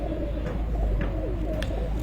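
An Ali Wala pure breed pigeon gives soft, low, rolling coos, faint and close, over a steady background hum.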